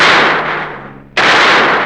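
Gunfire in a Bhojpuri film scene: two loud, broadband blasts, the first decaying over about a second before a second sharp shot hits and rings on, close and dominant with no voices.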